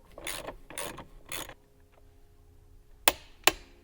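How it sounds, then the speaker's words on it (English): Tightening a bolt on a BMW G42/G80/G82 steering wheel with a ratchet: three bursts of clicking ratchet strokes near the mic, a quiet pause, then two sharp separate clicks or taps. "You just want to get this bolt back in, tightened up."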